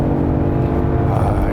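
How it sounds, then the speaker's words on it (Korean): Kia K8 with a 3.5 engine gives a steady, close low drone while driving, a smooth hum with faint tonal lines and no talk over it. "이거 엔진 사운드 엄청 좋군요"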